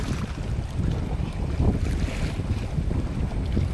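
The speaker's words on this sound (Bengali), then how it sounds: "আর হাওয়াও হচ্ছে তেমন।" Strong stormy wind rushes over a river, a constant rumbling roar mixed with the slap of rough waves against a fishing boat.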